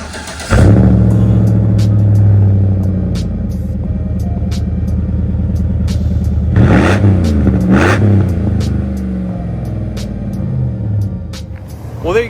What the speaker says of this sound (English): Today I'm going to do a cold start on my 2013 Chevrolet Silverado 1500, and I got a nice Super 10 exhaust on it.